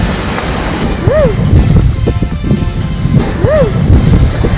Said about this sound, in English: so you really hear the waves all day long